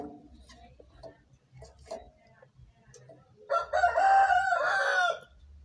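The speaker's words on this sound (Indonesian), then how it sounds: "abaikan suara ayam jago" A rooster crows loudly and close by, one long harmonic call rising after a few softer, scattered sounds in an otherwise quiet setting where fishing line is being strength-tested.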